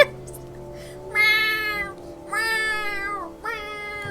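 A house cat in bed meows three times in a row, each cry rising then falling, close and fairly loud over a quiet room, with no talk.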